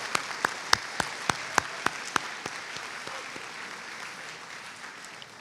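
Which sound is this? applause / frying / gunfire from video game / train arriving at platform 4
applause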